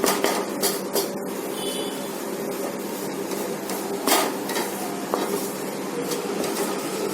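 Maida flour being stirred and roasted in a pan until golden brown, a continuous dry hiss with scraping and occasional sharp knocks of the spoon against the pan.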